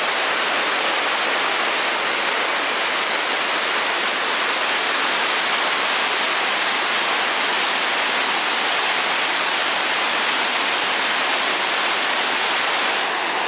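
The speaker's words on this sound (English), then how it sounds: "Here we have another small waterfall on a trail." Steady rushing water from a small waterfall on a forest stream in Michigan's Porcupine Mountains, a dense continuous hiss that stays constant throughout with no voices.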